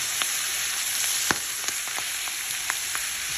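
Tomatoes, garlic and ginger fry in a pan, giving a soft steady sizzle punctuated by scattered sharp crackles and pops, close and without talk.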